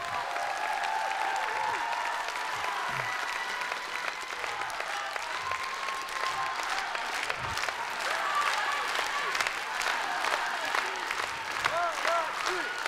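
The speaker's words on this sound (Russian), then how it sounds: "бурные аплодисменты." Stormy audience applause at a grand final show, dense and sustained clapping from a large crowd that runs unbroken for over twelve seconds, mixed with music and crowd noise.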